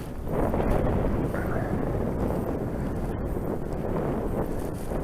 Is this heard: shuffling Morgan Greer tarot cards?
no